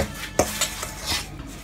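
Spoon clinking and scraping in a bowl as banana dough is stirred with flour, a few distinct knocks and soft scrapes close by.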